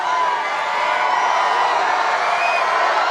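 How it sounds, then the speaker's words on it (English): A large outdoor crowd at a Trump campaign rally in Swanton, Ohio roars and cheers continuously, a dense steady wash of voices and whoops at high level throughout. "This is a big crowd."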